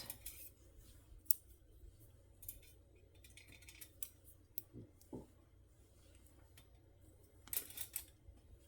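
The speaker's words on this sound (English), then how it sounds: "I need my other scissors that are flat." Flat craft scissors handled at a miniature tailor-shop workbench give quiet, scattered metallic clicks and snips with brief rattles, close by and faint against a low steady background hum.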